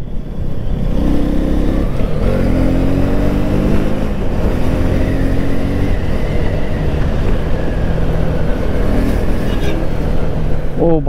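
A KTM Duke 250 motorcycle on a test ride gives off a loud, continuous engine drone mixed with wind and road rumble, and the engine pitch shifts as it accelerates, with no talking.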